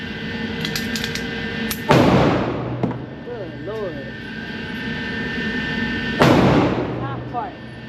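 Two loud, sharp reports from a Girsan MC14 .380 pistol, several seconds apart, each ringing out briefly, with someone talking in the gap between them.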